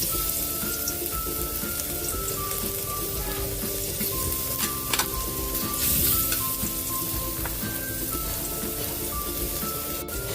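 Garlic sizzles and crackles in hot frying oil for a pan of ginisang monggo, a loud, steady hiss with scattered pops and stirring clinks, close up throughout.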